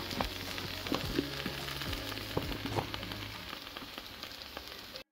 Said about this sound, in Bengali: এখন আমি এগুলো দিয়ে দিব সিদ্ধ হওয়ার জন্য।